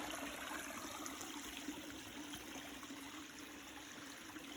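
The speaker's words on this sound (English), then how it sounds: "you can see the freshwater stream is over here" A freshwater brook trickles through the woods beside a property, a steady, faint wash of running water with no voices over it.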